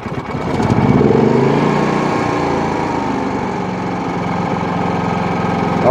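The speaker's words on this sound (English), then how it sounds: "Let's get the generator started." A Predator 9500 watt super quiet inverter generator starts and runs, a loud, close, steady engine drone with a throbbing low rumble that swells in the first second, then settles into an even hum.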